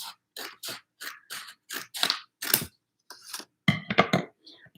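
Scissors snip through paper along a drawn line in a series of about ten short, crisp cuts, each a quick bright rasp separated by brief pauses, close and clear with no talking.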